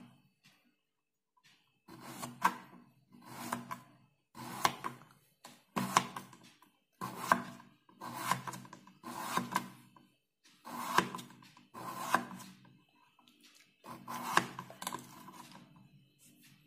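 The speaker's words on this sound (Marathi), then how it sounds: "साल काढलेल्या बटाट्याचे आपण चिप्सच्या आकारात काप करून घेणार आहोत" A peeled raw potato being sliced into chip-shaped pieces with a knife on a board, about a dozen crisp, evenly spaced cuts in a steady rhythm, close and clear with no talking.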